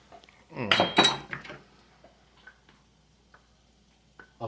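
A quarter cup of flour is scooped for creamy lemon pepper shrimp pasta, giving a short, close burst of metallic clinks followed by a few faint ticks.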